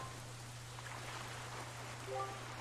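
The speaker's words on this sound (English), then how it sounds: "this place suffers under dark clouds and rain" Rain falls over Greatfish Isle in the video game Zelda: The Wind Waker HD, a soft, steady patter under a low constant hum, with a brief faint tonal cue near the end.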